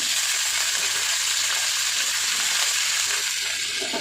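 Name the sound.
yardlong beans frying in oil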